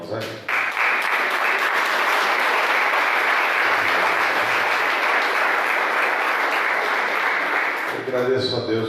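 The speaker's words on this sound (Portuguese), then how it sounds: "aplaudir Jesus um pouquinho," A church congregation at a thanksgiving service claps together for several seconds, a loud, even wash of applause, with brief speech at the start and end.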